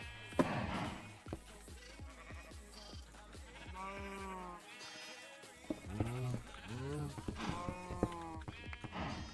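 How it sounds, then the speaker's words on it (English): Sheep bleat in a farming video game, several wavering calls overlapping and repeating close by, with a person talking intermittently in between. "I've got a lot of sheep up there, but I need more."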